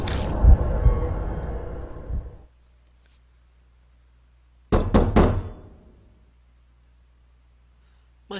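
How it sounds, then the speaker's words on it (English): A fist pounds on a door in the horror video game Death Mark, a loud burst of close heavy knocks followed by silence, then a second quick cluster of three or four thuds. "My fist pounds on the door."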